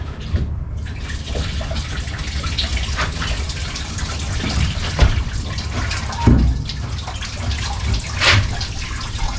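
Coolant drains from a buggy motor tube into a bucket, a steady close splashing pour of liquid with a few louder gurgles and spatters along the way.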